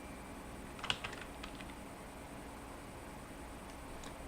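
Keys on a computer keyboard are pressed in a short cluster of light clicks near the start, then a few sparse taps, all close and quiet over a steady background hiss.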